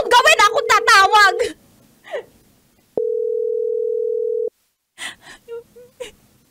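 A cellphone gives a steady, unbroken dial tone for about a second and a half while a call is placed. Excited voices and a gasp come before and after it.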